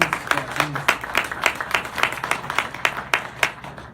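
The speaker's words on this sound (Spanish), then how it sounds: "Un pequeño aplauso para ustedes" A church congregation claps steadily and briskly for a few seconds, close and lively.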